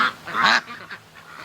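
A pet duck quacks loudly in a farmyard, one strong honking call followed by softer trailing calls, close to the listener with no talk.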